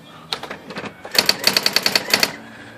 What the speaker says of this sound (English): So it's just a regular typewriter now.